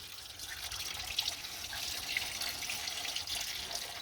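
Coolant drains from the engine of a 1993 Opel Corsa B Swing 1.2 8V into buckets during a water pump and timing belt job, a steady close trickling and dripping of liquid with no pauses.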